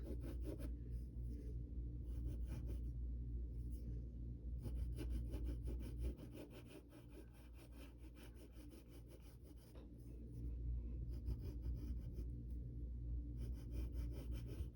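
Pencil drawing a cartoon dog's eyes on paper, a soft continuous scratchy rubbing with a slight pause midway, close but faint under a low background rumble, no talking.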